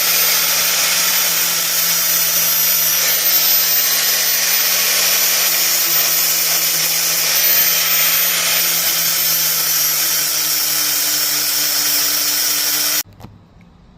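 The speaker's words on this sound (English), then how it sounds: "So now I'm going to try the flap disc first." Flap disc on an angle grinder smoothing a spot weld in a 1991 Honda CRX Si engine bay: a loud, steady high-pitched whine with gritty abrasion lasting about thirteen seconds, then stopping abruptly.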